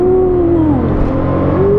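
A C4 Corvette's engine revs hard and climbs in pitch under hard acceleration for a burnout, then dips briefly and rises again, loud and close.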